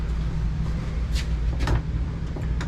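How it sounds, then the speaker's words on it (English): Door of a 2023 Forest River Vibe 34BH travel trailer opening, a couple of brief soft clicks and rattles over a steady low hum of the interior, no talking. "The door opens up on a different access."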